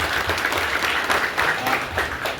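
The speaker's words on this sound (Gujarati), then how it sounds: "બધા હાર્દિક હૃદયથી અને તાળીઓની ગગડાટથી સ્વાગત કરીએ" A crowd at a political meeting for the Tukvada district and taluka panchayat seats in Pardi claps in sustained, dense applause to welcome a guest, loud and even throughout.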